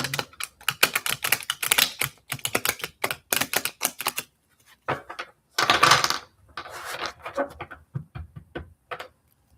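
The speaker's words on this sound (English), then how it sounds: "The cards keep splitting. So we'll keep shuffling." Tarot cards are shuffled by hand in rapid bursts of crisp, papery clicks. A long flurry is followed by a pause, then shorter bouts of shuffling, all close and clear with no talk.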